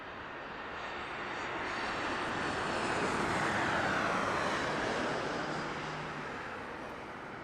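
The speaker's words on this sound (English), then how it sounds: "And this is gonna be Southwest Flight SWA 1725. Coming in from Portland, Oregon, PDX, Boeing 737" A Southwest Boeing 737 arriving from Portland lands at Las Vegas Harry Reid International Airport, its jet roar swelling to a loud peak and then slowly fading, with no voices heard.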